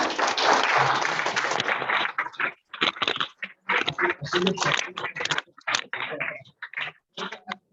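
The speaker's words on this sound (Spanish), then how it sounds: "un fuerte aplauso para" An audience at a talk about a trip to North Africa breaks into applause, a dense clapping burst for two seconds that fragments into uneven bursts and scattered claps, with voices mixed in.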